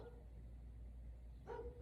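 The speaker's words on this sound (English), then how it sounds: "And of course my neighbor's dog's going to start to bark." A neighbor's dog gives a single short bark near the end, distant and faint over a low steady background hum.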